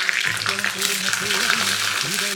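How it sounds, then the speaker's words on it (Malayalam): Loud, continuous sizzling of something frying in hot oil, with a voice speaking throughout over the hiss. "കടുക് പൊട്ടുമ്പോഴേക്ക് എടുത്തു വെച്ചിരിക്കുന്ന പച്ചമുളക് ഇതിലേക്ക് ഇട്ട് കൊടുക്കാം"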